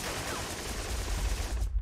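Gunfire in a World War 2 turn-based strategy video game: a dense, continuous burst of rapid shots crackles loudly for under two seconds, then cuts off.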